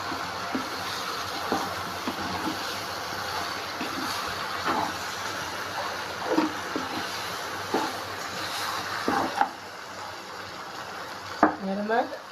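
Coarsely ground masala paste frying in a pan over cooked vegetables, a soft continuous sizzle with repeated spoon scrapes and stirring knocks, ending in a short squeaky scrape.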